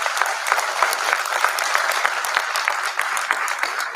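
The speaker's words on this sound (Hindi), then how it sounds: "एक बार अच्छी वंदना के लिए तालियां" A seated audience at a Hindi poetry gathering in Gwalior claps steadily and densely after a Saraswati invocation, a continuous crowd applause with no break.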